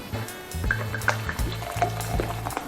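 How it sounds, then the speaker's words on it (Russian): Moscow ale poured from a jug-shaped bottle into a glass to raise foam, a gurgling, bubbling liquid stream with small splashes, close and moderately loud. "Наливаем, чтобы была пена."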